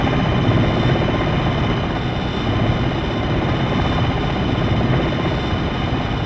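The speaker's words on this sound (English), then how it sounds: "Be advised, enemy choppers are detected in your area" A helicopter in a military video game flies close overhead, its rotor and engine making a loud, steady, throbbing drone that holds for several seconds with no talk over it.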